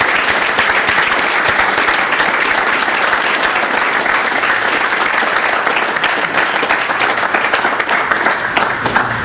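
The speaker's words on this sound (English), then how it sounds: "Give him a round of applause." A room of gentlemen gives Chad Hennings a round of applause: loud, continuous crowd clapping that holds steady for several seconds with no voices on top.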